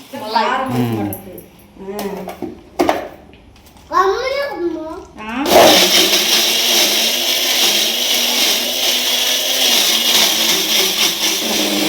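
A mixer grinder whirs loudly as it grinds chilli, ajwain and sesame, starting abruptly midway and running steadily after a child and others chatter beforehand.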